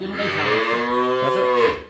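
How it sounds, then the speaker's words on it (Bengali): A four-tooth Friesian cow on a livestock market lets out one long, loud, close moo that holds for nearly two seconds before trailing off. "চার দাঁত বয়সের গাবি এটা"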